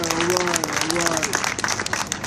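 Audience applause at a press conference, a burst of dense clapping from a crowd close by, with a voice speaking briefly over the start before the clapping continues alone.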